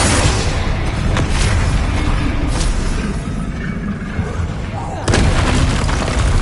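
Confringo fire spell explosions in Hogwarts Legacy, loud dense booming blasts and crackling bursts in quick succession, a sharp new impact near the end.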